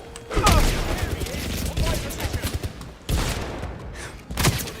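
Bursts of gunfire and heavy thuds from the 007 First Light video game crackle in dense volleys, loud and close, with a voice talking over the shooting.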